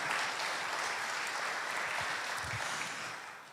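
A church congregation applauds together: a thick, continuous wash of clapping from a large room that holds steady, then eases slightly toward the end, with a couple of low thumps underneath.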